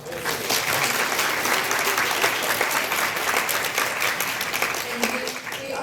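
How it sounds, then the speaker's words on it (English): Audience at a talk on coercive control and cults breaking into sustained applause, a thick, even rush of clapping heard close and steady from start to finish. "give her a round of applause"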